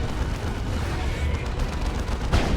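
Predator tank firing in the Dawn of War 2 video game, a steady roar of continuous gunfire and explosions with a louder blast near the end.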